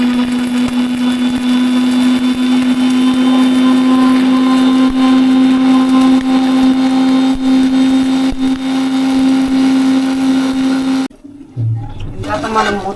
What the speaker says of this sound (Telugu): వేసుకొని దీన్ని మిక్సీ పట్టుకుందాము